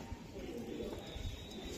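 A racing pigeon with a BRPFC club leg tag, a male, cooing softly in a few low, muffled throaty pulses at close range, faint against quiet room noise.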